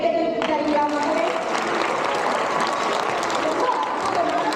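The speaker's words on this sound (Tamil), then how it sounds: "நம்மளோட பாரதியாருக்கு ஒரு பலத்த கைத்தட்டல் தருவீங்களா மக்களே?" Audience at the Sangamam 2026 stage event giving a performer a loud, sustained round of applause, dense clapping from a large crowd continuing steadily throughout.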